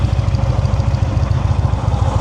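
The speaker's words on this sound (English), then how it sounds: "Listen to that engine." A motorcycle engine runs at low RPM during advanced slow-speed riding practice in North Carolina, making a steady, loud, close-up lumpy idle that pulses rhythmically, with no voices.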